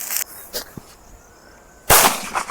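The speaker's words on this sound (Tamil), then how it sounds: "ஓ அழுக்கு செமையா வெடிச்சுது" A daytime Diwali firecracker goes off with one loud, close bang that dominates after a few smaller pops and crackles.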